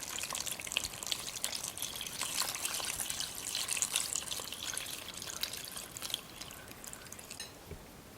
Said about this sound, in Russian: Простая колодезная вода